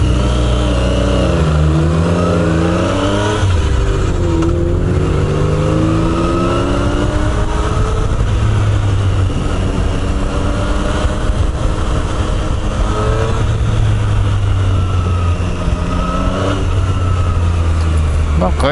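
A Triumph Street Triple motorcycle in sport mode revs and accelerates through repeated rising and falling engine sweeps on a ride, close and loud, with a rider talking over it at times.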